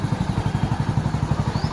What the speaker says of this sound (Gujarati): જુઓ માનવી બેન બાઇક ચલાવું છે